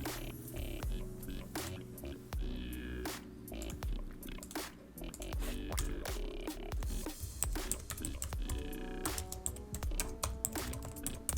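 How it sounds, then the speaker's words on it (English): Rapid typing on a computer keyboard, dense irregular key clicks and taps close to the microphone, continuing steadily over a faint background hum with no talking. "And right now we're just gonna type in the words."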